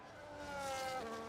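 Formula 1 cars in a long line stuck behind a lapped car at the 2025 British Grand Prix go by at a distance, their faint, high engine whine swelling and then dropping in pitch as they pass.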